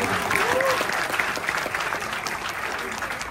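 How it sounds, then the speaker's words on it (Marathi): A crowd at a Marathi film poster launch breaks into loud, sustained clapping, thick and continuous throughout, with a faint voice underneath. "हा तुम्ही जो मराठी प्रयत्न करताय ना त्यासाठी जोरदार टाळ्या दिल्या"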